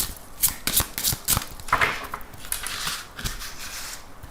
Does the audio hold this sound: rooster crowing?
no